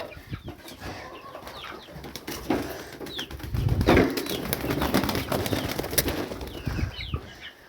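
Pigeons released from a home flock flap into flight with coos and bird calls mixed in, wingbeats building to a dense fluttering burst midway, close by and fairly loud, no talking.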